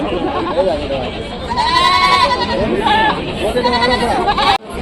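Several goats bleat loudly at close range at the Rajarampalli livestock market, overlapping cries among background chatter and people talking.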